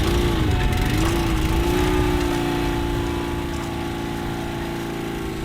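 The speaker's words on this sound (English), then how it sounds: "It's basically just a portable air compressor with breathable quality air" A portable breathing-air compressor for boat diving runs steadily and loudly close by, a constant engine drone with a humming tone that barely changes.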